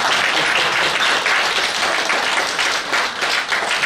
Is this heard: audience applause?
yes